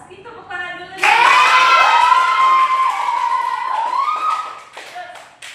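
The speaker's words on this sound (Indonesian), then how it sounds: "Kita tepuk tangan dulu." Classroom of students clapping hands together with cheering voices during a tenth-grade geography lesson, a loud burst of claps and shouts lasting several seconds before fading.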